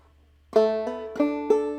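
Clawhammer banjo picking a short phrase of the tune Briarpicker Brown: four bright plucked notes with ringing overtones, played alone and close after a brief silence.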